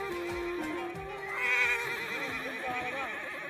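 At an Egyptian Arabian horse show, a pure Arabian horse lets out a long, rising and falling whinny over steady crowd and arena noise, with other horses and murmuring voices in the background.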